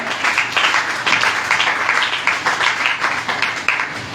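A church congregation breaks into sustained applause and cheering, a dense wash of many hands clapping loudly and steadily from start to finish.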